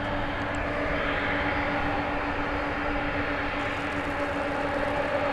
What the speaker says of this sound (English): let's give an appropriate salute to this 30-year-old aircraft